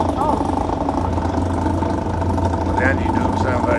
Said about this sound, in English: But the engine doesn't sound very good now.